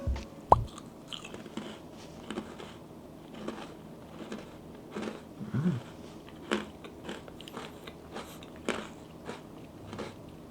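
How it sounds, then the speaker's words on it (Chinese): Close-up chewing of a soft, dense biscuit for ASMR, with an initial bite followed by repeated muffled crunches and moist mouth sounds, quiet and intimate, no talking. "我听你的吃的这个声音，我就大概知道说这个饼干比刚刚都软"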